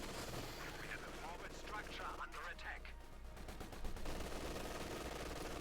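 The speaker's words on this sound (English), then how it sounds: "Machine gun bunker there holding up the Tommies." Machine gun fire from a bunker in the strategy game Company of Heroes 2 rattles in quick bursts amid battle noise, fairly faint and mixed with other game effects, with a voice talking over it.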